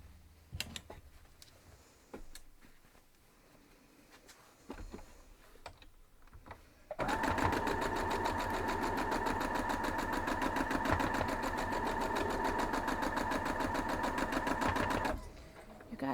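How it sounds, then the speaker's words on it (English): Home sewing machine stitching the second side of a quilt block seam, starting after a few quiet shuffling sounds and then running in one loud, steady, fast buzzing stretch for about eight seconds before stopping. "we're going to sew up the other side."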